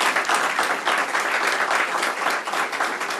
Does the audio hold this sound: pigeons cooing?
no